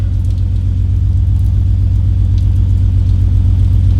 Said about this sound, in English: we know we have a running Supra